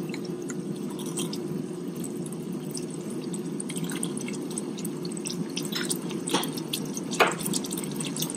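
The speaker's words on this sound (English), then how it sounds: "So it's bubbling right here." Coconut curry bubbling in a pot with a steady low simmer hum and occasional wet pops and drips, close and continuous.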